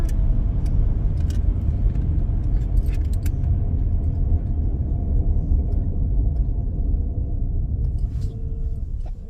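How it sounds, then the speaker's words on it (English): Rear brakes on a 2018 Subaru Forester with rusted rotors grind steadily as the car coasts down from about 35 mph, a continuous low rumble of rubbing metal and tire noise that fades slightly toward the stop. "So you heard a pretty good grinding noise. It got more prevalent as we were approaching 0 miles an hour."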